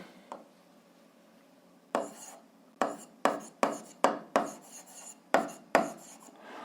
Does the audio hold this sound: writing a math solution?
yes